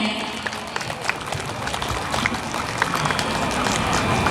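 Audience at a PKH graduation ceremony in Central Lampung applauding, a dense, steady patter of many hands clapping close and loud for several seconds.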